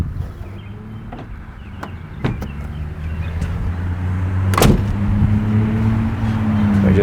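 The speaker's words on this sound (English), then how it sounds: "we'll go ahead and shut this tailgate" A tailgate on a 2017 Ford F-150 Raptor pickup swings shut with one sharp, loud slam partway through, set against a steady low idle hum, with a few lighter clicks and knocks before it.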